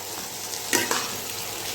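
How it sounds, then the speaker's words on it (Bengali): Onions sprinkled with a little sugar fry in a pan, giving a steady close sizzle with a couple of sharp stirring scrapes near the middle, fairly quiet, without speech. "এদিকে পেঁয়াজ ভাজা হচ্ছে, পেঁয়াজে একটু চিনি দিয়েছি"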